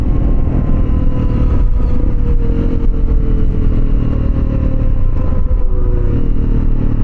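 A Honda CRF300L motorcycle fitted with a Black Widow aftermarket exhaust roars steadily at speed, a loud continuous engine drone with wind rush and no voices.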